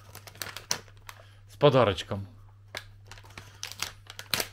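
A small green gift bag crinkles and rustles as it is opened, a short burst of papery crackling amid close, quiet handling noises while people talk nearby.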